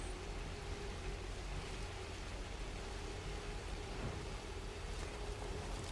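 Rain falls in the video game Death Stranding as a steady, faint hiss of wide noise with a low rumble underneath, constant and without voices.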